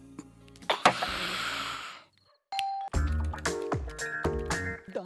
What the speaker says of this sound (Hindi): आधी रात को बेल बजा रहा है?